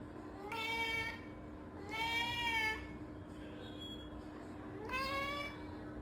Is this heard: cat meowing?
yes